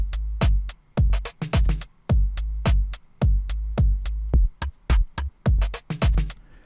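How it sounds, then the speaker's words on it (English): An uncompressed drum loop repeats at moderate level, with punchy kicks and sharp snare and hi-hat hits in a steady rhythm and clear gaps between beats. "Here's the sound of the drum loop without any compression on it."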